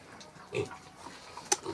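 Piglets at feeding time give short, scattered grunts and squeals, fairly faint and spaced out, with one sharper squeal near the end.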